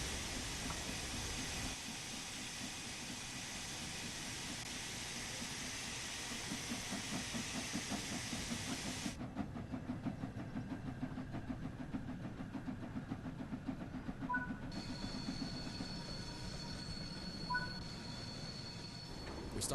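A steam locomotive's cylinder cocks vent steam in Train Sim World 5, a loud steady hiss over rhythmic chuffing and rumbling that stops partway as the engine keeps running, with faint metallic squeals later.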